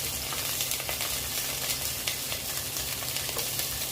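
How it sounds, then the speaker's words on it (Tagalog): Garlic and ginger sauté in a hot pan for soup, giving off a steady, close sizzle with occasional small crackles and stirring scrapes throughout. "mag-gisa na tayo kay garlic"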